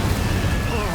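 An Incendio fire spell bursts in Hogwarts Legacy as a dense, roaring blast of flame that fills the whole short moment, with a voice speaking over it.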